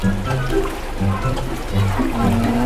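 A submersible aquarium water pump at an ornamental and freshwater fish market pushes out a strong, continuous gush and splash of water, close and fairly loud, with a voice talking over it.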